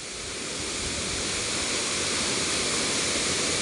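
Mosokbusok Falls in Carigara, Leyte: strong falling water roars as a steady, dense, broadband wash, close and continuous, with no voices.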